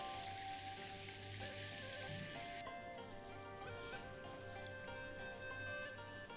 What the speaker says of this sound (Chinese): 中火牛肉翻炒大约1分钟，加入干香料。